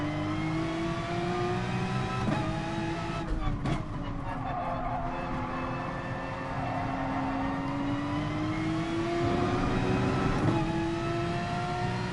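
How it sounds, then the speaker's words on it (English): Race car engine in Gran Turismo Sport on PS4, droning steadily and rising and falling in pitch as the car spins out, loud and continuous throughout with some faint background whir. "Oh, car stop spinning on me."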